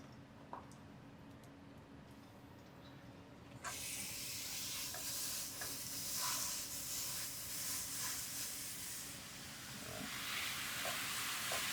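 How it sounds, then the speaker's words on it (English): Organic ground beef and chorizo hit the pan, and a steady sizzle and crackle swells in at about four seconds, holding at a soft, continuous fry with scattered pops and no talk. "Now, we've got our organic ground beef and our chorizo. We're going to get these going in the pan."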